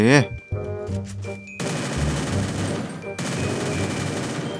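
Gunfire in a shooting video game: rapid automatic bursts after a short pause, then dense sustained firing that continues with brief gaps, fairly loud and close.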